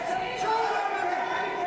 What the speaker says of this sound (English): Murphy rallying the crowd. Plenty of noise for this fight.